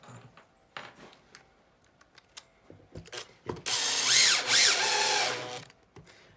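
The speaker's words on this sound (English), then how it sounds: "So you've got to hold it tight and force that screw to find a nice home into that fresh material and at maximum bite." A power drill drives a screw into fresh, un-drilled backer material while a storage bench is assembled. A few faint handling knocks come first, then a loud, close, sustained whirring burst that rises and dips in pitch for about two seconds.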